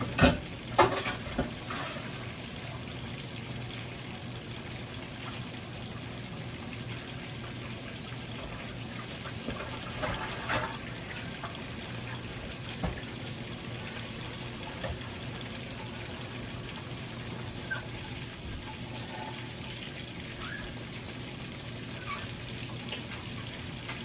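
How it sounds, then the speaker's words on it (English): A plate is washed under a running kitchen tap, a steady wash of water noise lasting throughout, with a few light knocks and clatters of crockery near the start and scattered through. "So let me just wash this plate, y'all."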